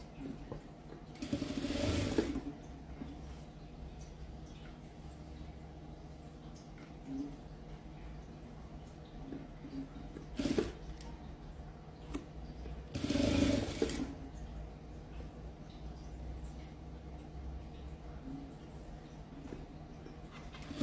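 A sewing machine stitching patchwork quilt pieces, heard as faint, quiet mechanical whirring with two brief louder bursts of stitching separated by low background noise.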